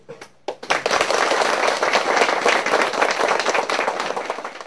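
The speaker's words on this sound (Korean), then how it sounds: "박수로 환영을 하기 바랍니다" Soldiers of an artillery battalion give a dense round of clapping to welcome visiting veterans, starting with a few scattered claps and swelling into steady, fairly close applause.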